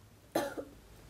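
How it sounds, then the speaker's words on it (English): A single short cough, fairly close, from a patient during a medical abdominal examination in an otherwise quiet room. "Can I get you to cough for me?"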